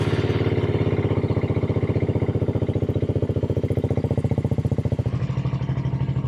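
Motorcycle engine idling in neutral, a fast even putter of exhaust pulses held steady close by, shifting slightly in tone near the end.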